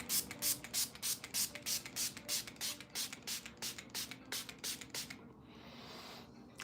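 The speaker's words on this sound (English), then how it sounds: "I spray it first with the cheaper one so that I can drench my face with it." A cheaper dupe of a Charlotte Tilbury makeup setting spray mists onto a face in about twenty quick, evenly spaced pumps close to the microphone, then stops.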